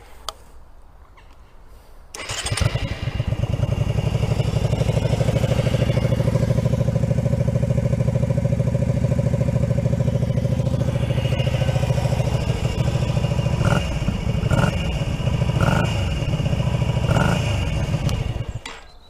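A Honda Shadow bobber motorcycle engine with a drilled-out exhaust baffle starts up after a short quiet moment and runs steadily with a loud, raspy, throaty exhaust, with a few sharp revs near the end.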